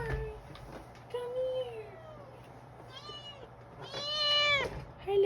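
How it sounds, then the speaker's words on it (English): A pet cat meows several times up close in a quiet room, its calls rising and falling, with someone talking softly in between. "Cat's right next to me."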